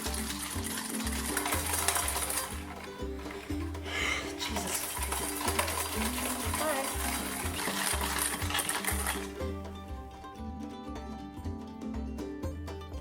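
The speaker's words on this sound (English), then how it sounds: "whisk together your egg yolk and caster sugar until it's light and frothy and foamy" Egg yolk and caster sugar being whisked together in a bowl until light and frothy: quick, regular strokes rattle and tick steadily throughout, close and fairly loud, with no voices.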